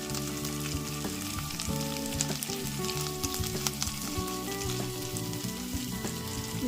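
Beans, capsicum and carrots fry in butter for a vegetable soup, giving a dense, continuous crackling sizzle that stays loud and even throughout, with no voices.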